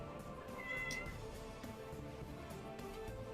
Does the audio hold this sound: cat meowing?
yes